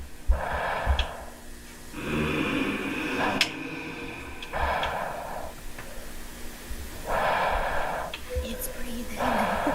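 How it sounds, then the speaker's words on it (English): Heavy, raspy breathing in a Backrooms setting, with slow alternating inhales and exhales in a steady rhythm of four or five long breaths, close and breathy with no clear talk. "It's breathing."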